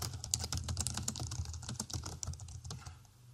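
Rapid, uneven keystrokes on a computer keyboard while entering an axis label in an Excel spreadsheet, close and fairly quiet, a steady patter of clicks with no talking.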